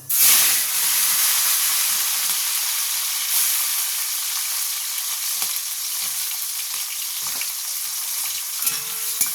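Shrimp frying in oil tempered with radhuni spice, with a loud, bright, steady sizzle starting with a sudden burst and holding close and constant, broken by occasional stirring clicks.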